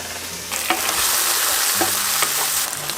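Al pastor pork sizzles loudly in a hot pan and is stirred, with constant frying crackle and occasional scraping strokes of a utensil, close and without talk.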